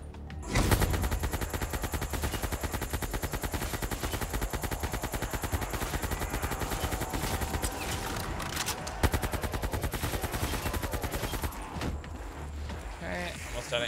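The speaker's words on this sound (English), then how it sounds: "Okay, almost out of ammo with AK." An AK rifle fires fast, steady bursts in Call of Duty Zombies, rapid gunshots that run almost without a break, with a voice talking under the shooting.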